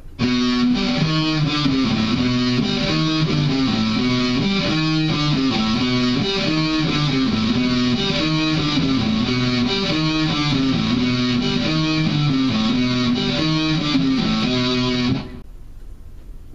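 A distorted electric guitar plays a steady, repeating riff, loud and driving, for about fifteen seconds before stopping abruptly; no voices.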